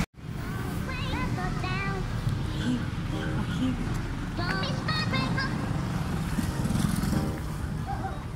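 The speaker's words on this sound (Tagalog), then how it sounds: "At madaming sasakyan." Busy traffic on a narrow, crowded residential street: a steady engine rumble of cars and motorcycles passing close by, with scattered voices and chatter from people nearby throughout.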